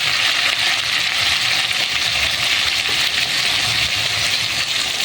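Spiced poultry meat sautéing in a pan with dry chilli paste, salt and turmeric, giving a steady, loud, close sizzle that holds evenly throughout without pause.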